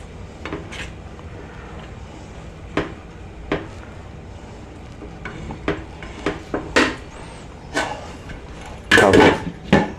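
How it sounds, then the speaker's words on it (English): A spoon stirring spices into a vegetable dhansakh in a pot, heard as sporadic knocks and scrapes of utensil against cookware, growing busier and louder toward the end, with no talking. "Just mix it all together."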